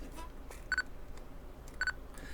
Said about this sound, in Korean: 우리가 사진을 찍다 보면 이렇게 삐릭 하고 소리가 나죠.